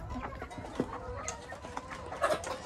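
A rooster clucks softly in a garden among other hens and young fowl, giving several short, low clucks with faint rustling in the background.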